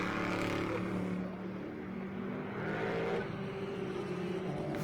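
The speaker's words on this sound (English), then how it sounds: "Get Baptiste and Vielander second and third in the Bentley and the Ferrari." Bentley and Ferrari GT race cars in a Blancpain GT World Challenge America race at Las Vegas Motor Speedway, engines roaring past at a distance, rising and falling as they accelerate through the infield.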